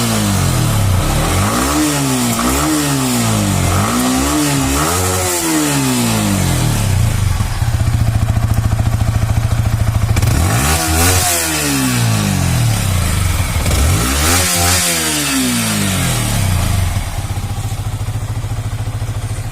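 A Yamaha R15 V3 BS6 motorcycle engine revs hard again and again, rising and falling in repeated loud bursts, then holds at a high steady drone before more revs, close by with no talk.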